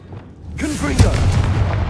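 A Confringo blast curse explodes in Hogwarts Legacy, a loud booming burst that starts suddenly and rumbles on while a voice shouts over it.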